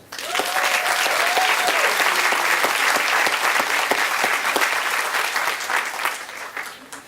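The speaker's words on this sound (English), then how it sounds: "I think that we should applaud each other for that hard work" Warm, steady audience applause fills a commencement ceremony hall for an adult education school in Washington DC, dense with many hands and tapering slightly at the end.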